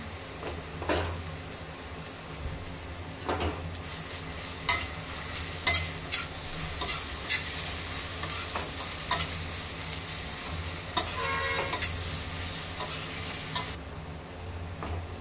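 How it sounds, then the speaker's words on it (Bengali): Garlic paste fries with browned onions for a mushroom curry: a quiet, even sizzle underneath, punctuated by irregular taps and scrapes of a utensil stirring against the pan. "পেঁয়াজটা ব্রাউন কালার হয়ে গেছে, এবার আমি দিয়ে দেব রসুন বাটা"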